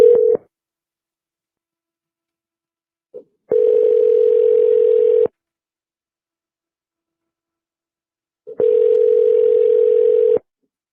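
A telephone ringback tone sounding out on a call, two long steady buzzing rings about two seconds each separated by silence, loud and close, with no talk.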